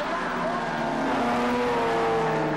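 Race cars in a 1996 Austin Healey club championship go past on their final lap, a sustained engine drone rising and falling in pitch as they pass at moderate distance, with a commentator talking over it.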